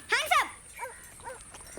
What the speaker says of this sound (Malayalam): പറമ്പിലെ നായ്ക്കളെ പെറ്റ് പെരുകിയിരിക്കുക